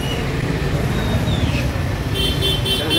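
Dense road traffic at a crowded Sunday night bazaar in Kondhwa, Pune: a steady broadband rumble of cars, buses and engines, with a brief horn toot and faint crowd voices mixed in throughout.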